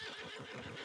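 A horse whinnies in Red Dead Redemption 2, a brief, faint, breathy neigh heard close over a dense background wash, with no talk.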